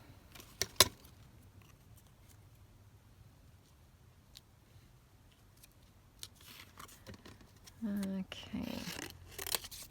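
Scissors snip paper for collage tags in a few quick, close cuts, and a voice briefly speaks between the cuts.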